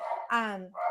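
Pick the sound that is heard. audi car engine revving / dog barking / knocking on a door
dog barking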